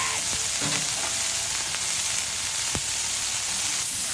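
A meat patty sizzles loudly and steadily on a hot griddle, a constant crackling hiss with occasional small pops.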